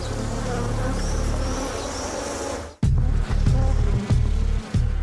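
Killer bees swarm with a dense, continuous buzzing hum, loud and close, that cuts abruptly to a heavier low rumbling passage with rhythmic dips.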